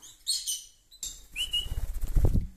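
A small pet bird flies down with a quick flurry of fluttering wingbeats, close to the listener, after a few high chirps and whistles.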